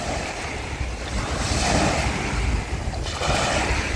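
Sea waves wash and surge continuously around a small fishing boat out at sea, a loud, broad rushing roar mixed with wind buffeting the microphone, with no voices.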